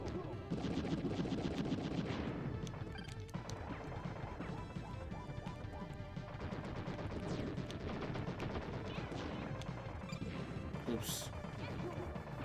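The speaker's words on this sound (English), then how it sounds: "Grenade launcher." A grenade launcher fires in the retro shooter Wild Guns, sending dense bursts of shots and crashing explosions over busy game music, with hardly a pause between hits.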